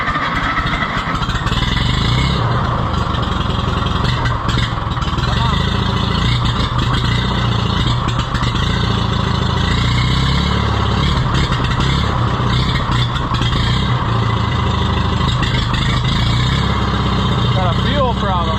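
An Oliver 66 tractor engine runs loud and close with a steady clattering chug, overlaid by a constant dense roar, with no talk.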